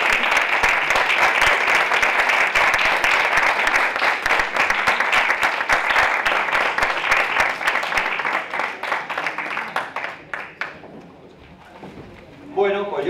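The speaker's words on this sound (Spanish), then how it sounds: "lo recibimos con un aplauso" An audience of a former-students association applauds to welcome the choir director, loud dense clapping that thins and fades out, followed by a voice starting to speak.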